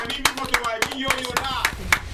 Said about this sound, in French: Bravo, nous applaudissons, c'est important.